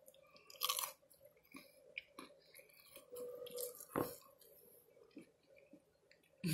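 Close, crisp crunching and chewing of an Aldi taco cup filled with chicken, cheese, salsa verde and jalapeno, with repeated bites and sharp cracks of the shell in a quiet room.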